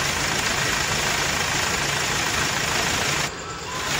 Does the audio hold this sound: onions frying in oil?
no